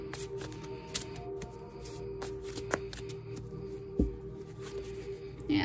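Tarot cards being shuffled by hand close up, a steady papery riffle and slide with occasional soft taps, quiet and without talk.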